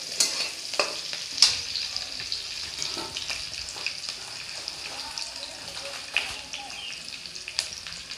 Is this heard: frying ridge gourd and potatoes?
yes